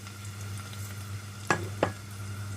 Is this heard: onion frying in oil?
yes